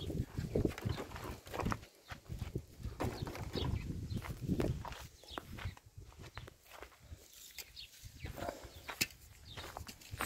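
Sheep being let out of their pen early in the morning on a farm, with a steady shuffle of many hooves and footsteps and scattered animal movement, close by and continuous.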